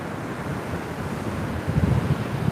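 Steady roaring wash of surf on a windy beach at Khao Takiab, Thailand, mixed with gusty wind buffeting the microphone, a continuous low rumble that swells slightly near the end.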